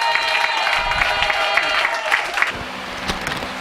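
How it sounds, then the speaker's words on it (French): A church audience cheers and claps to welcome a prophet, with mixed applause and crowd noise, loud and full at first and then thinning toward the end. "sur vos acclamations, nous recevons le prophète Ibrahim"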